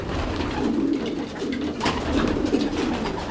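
Racing pigeons coo in a loft, soft throaty rolling calls overlapping close by against a busy background rustle, with no talk.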